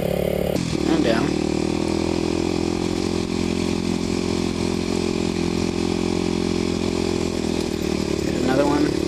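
A Kawasaki KLX250SF supermoto motorcycle climbs a rocky offroad hill at an ATV poker run, its single-cylinder engine droning steadily and loudly throughout, heard close up from the bike.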